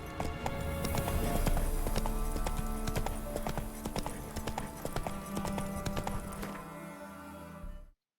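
Horse hooves galloping in The Witcher 3, a loud, fast clip-clop rhythm running steadily for nearly eight seconds before cutting off abruptly.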